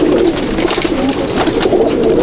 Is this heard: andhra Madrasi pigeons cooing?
yes